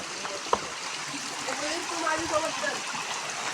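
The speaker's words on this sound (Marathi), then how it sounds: "अशा आहे आमची नदी इकडं" A river in the Konkan countryside flows with a steady broadband rush and light gurgling, close by, with a brief knock near the start and faint voices underneath.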